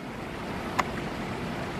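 A waterfall in a zoo lion exhibit makes a steady, moderate rush of water that fills the whole moment, with a light wind-like hiss and one brief sharp click midway.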